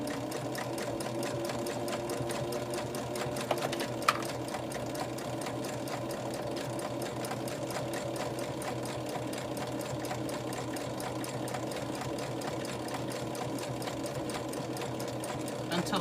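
A sewing machine stitches steadily around the curved edge of a placemat under a quarter-inch foot, a fast, even mechanical whir that continues the whole time with one small click partway through.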